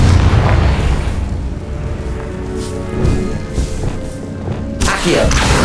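Confringo spell explosions in the video game Hogwarts Legacy make loud, continuous booming blasts with a heavy low rumble throughout.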